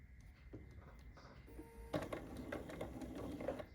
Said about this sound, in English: Take a few stitches to secure, make sure we're still lined up